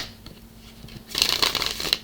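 Tarot cards are shuffled at close range for a weekly love reading, producing a brief, crisp flurry of papery riffling and flicking in the second half of the clip, with no voice.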